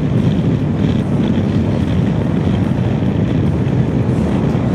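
Honda CB500X 2022 motorcycle accelerating in sixth gear from about 80 toward 100 km/h, a steady loud engine drone buried under heavy wind rush across the whole stretch, with no voices.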